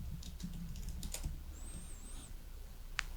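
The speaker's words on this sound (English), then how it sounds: "you can type your username" Quiet keyboard typing as a username is entered on a computer, a quick run of soft clicking keystrokes at a steady pace, faint and close, with a few isolated taps.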